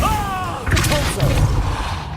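A Repulsor spell blasts off in the Hogwarts Legacy game, a dense rumbling burst of booming, thudding impacts that swells midway, with a faint shout briefly heard over the clamour.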